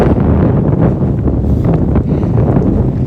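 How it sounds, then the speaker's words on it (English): Strong gusty wind on a hill above Bozeman, Montana buffets the microphone with loud, continuous roaring rumble that surges and dips slightly, with no talk. "The gusts that hit us every now and then are 60."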